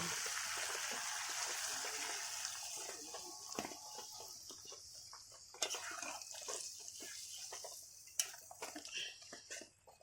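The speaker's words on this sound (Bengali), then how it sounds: "এবারে পরিমাণ মতো জল দিয়ে দেব।" Water is poured into a pot of simmering chicken kosha curry, a steady trickling pour with occasional clinks of utensils against the pot, close and alone without talk.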